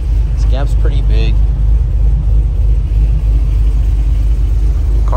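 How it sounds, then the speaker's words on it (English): A car engine idles with a deep, steady low rumble close by after suspension work, with a voice talking over it briefly near the start. "Car sounds good though."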